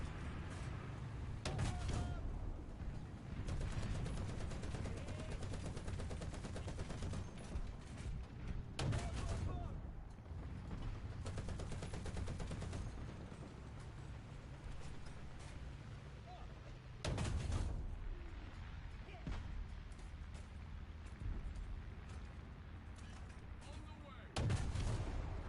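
Gunfire and heavy cannon booms in the War Thunder video game ring out repeatedly across a long stretch of steady engine rumble, with several loud blasts standing out; a voice talks intermittently over the action.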